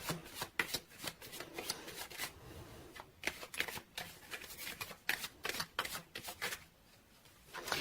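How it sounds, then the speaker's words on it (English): Tarot cards are shuffled and pulled by hand, a crisp run of riffling flicks and soft slaps in quick irregular bursts, close and alone with brief pauses between. "So let's pull few cards to clarify situation from Gildred."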